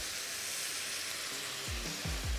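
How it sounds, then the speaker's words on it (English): Japchae noodles sizzle steadily in a hot pan, a constant hiss with a few low knocks of utensils near the end. "Nice sizzling sound."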